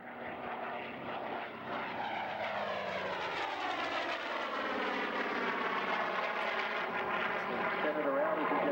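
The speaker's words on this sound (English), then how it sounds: "Little strafing run here now." A warbird aircraft makes a low strafing run at a 1997 airshow at Frederick Municipal Airport, Maryland, its engine roar building loud and continuous with a falling Doppler sweep as it passes close overhead.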